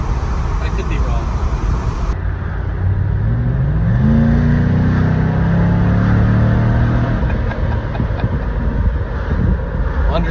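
A 2023 Nissan Titan pickup truck engine revs up with a throaty exhaust note, pitch rising and easing off, under steady wind rumble outdoors.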